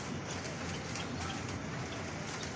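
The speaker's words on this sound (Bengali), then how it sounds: "কেমন বৃষ্টি" Steady, dense rain falls outside near a ten-storey building during a storm, a loud continuous hiss with no gaps or voices.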